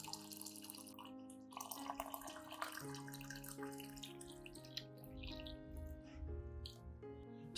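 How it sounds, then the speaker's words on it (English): Hot water is poured into a glass as a soft, continuous trickling stream, faint and low in level beneath steady tonal background music. "Then pour 500 milliliters of hot water into the glass to soak the mixture."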